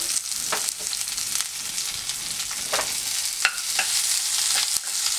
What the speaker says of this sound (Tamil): மறுபடியும் சட்டியில் கொஞ்சோண்டு தேங்காய் எண்ணெய் சேர்த்துக்குங்க. அப்புறம் தட்டி வச்சுருக்க பூண்டு